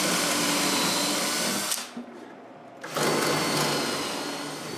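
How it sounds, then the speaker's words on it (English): A power drill bores dowel holes through a shop-made doweling jig into wood, a loud continuous whir that drops away for about a second mid-clip before resuming, close and alone. "I'm going to use the doweling jig I made and drill some holes."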